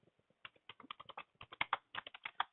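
Rapid, uneven clicking of keys on a computer keyboard as a command is typed, close and clear, with short pauses between bursts and no talking.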